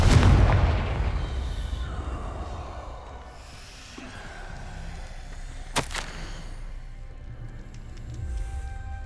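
A Confringo fire spell from the Hogwarts Legacy video game bursts loudly at the start, then a sharp crack near six seconds stands out above a low rumbling ambience that fades as the clip goes on.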